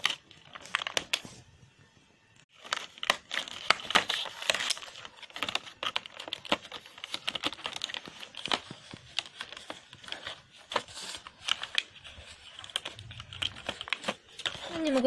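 A paper window of an advent calendar holding a chocolate is torn open up close with crinkling, tapping and scratching sounds in irregular bursts, and a short pause early on.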